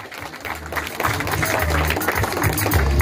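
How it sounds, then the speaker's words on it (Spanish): Crowd at a Christmas plaza event in Delicias de Concepción, Morazán, El Salvador, applauding together outdoors, a dense steady wash of clapping that swells louder after the first second and holds strong, with some voices mixed in. "Más fuerte, un aplauso fuerte."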